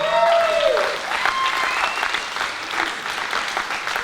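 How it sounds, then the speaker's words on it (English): Audience applause rings out after thanks to an organiser, a dense wash of clapping that stays steady and fairly loud through the clip, with a few whistle-like tones near the start. "Round of applause for that"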